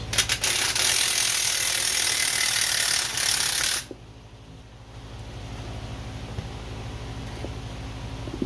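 A ratchet clicks rapidly and loudly while a nut comes off a car strut assembly during strut installation, then stops abruptly, leaving a quieter mechanical hum in the background.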